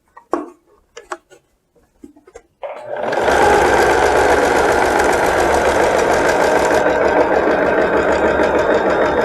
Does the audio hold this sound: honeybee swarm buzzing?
no